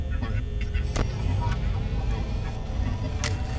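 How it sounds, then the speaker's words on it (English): A scary, garbled robot voice from the Five Nights at Freddy's 1 video game, played while animatronics twitch: faint, distorted, voice-like murmuring broken by a few sharp clicks, heard alone at low volume. "There's also a scary robot voice that plays while they're twitching."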